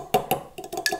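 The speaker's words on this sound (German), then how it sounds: "Das verrühren wir jetzt" Melted butter and an egg whisked roughly in a bowl: quick, light clinks and scrapes of a utensil against the bowl in an uneven rhythm, close and fairly soft.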